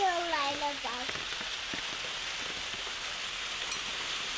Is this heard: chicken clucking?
no